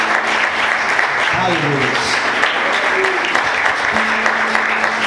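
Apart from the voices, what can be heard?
congregation applause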